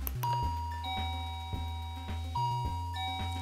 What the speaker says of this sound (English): By pushing this doorbell here